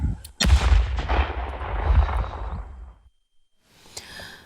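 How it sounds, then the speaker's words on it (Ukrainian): A single powerful explosion booms, its roar rolling on for a couple of seconds before fading into near silence, then a faint distant rumble. "Вибух!"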